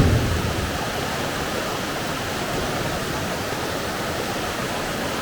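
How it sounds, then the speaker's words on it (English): Loud, steady rushing of a river along the Lost Waterfalls Trail near Boquete, Panama fills the air, a dense continuous roar with no pauses. "Ooh, that water's getting loud though."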